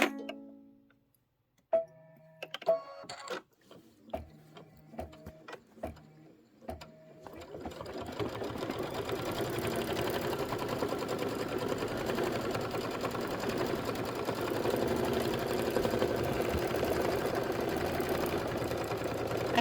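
After a few beeps and mechanical clicks, a sewing machine stitching fabric for a Kimberbell sew-along project starts up and runs in a steady, close, continuous buzzing hum for the remaining dozen seconds.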